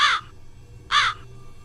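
A crow gives two loud, harsh caws about a second apart, each short and close by, with quiet in between.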